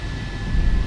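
Boeing 737-800 engines spooling up to takeoff power in X-Plane 11, a steady rising roar that swells louder toward the end of a short, continuous stretch with no voices.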